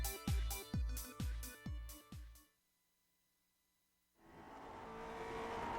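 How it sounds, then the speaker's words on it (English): A Lotus 49 race car engine in the iRacing video game at Le Mans gives about six sharp, loud revving blips, falls silent briefly, then its engine and road roar build steadily. "Alright, we're in the GSRC Lotus 49, so let's do a lap around Le Mans."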